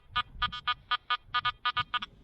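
Metal detector on a beach giving a target signal: about a dozen short, bright electronic beeps in quick, slightly uneven pulses, some paired, over a low rumble of wind or surf.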